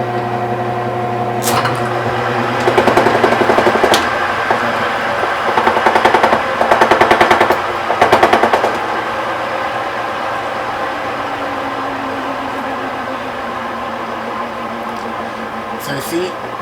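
A wind turbine generator hums steadily while it repeatedly disconnects and reconnects, bursts of harsh, rapid clattering rising over the drone in several short rounds, then easing back to the continuous whine, with a voice speaking at points.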